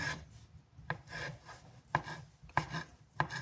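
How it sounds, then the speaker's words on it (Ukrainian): Sharp knife chops through potatoes on a board at an uneven pace, four or five distinct strikes with soft scraping and rustling between them, close up. "дорізаємо нашу картопельку"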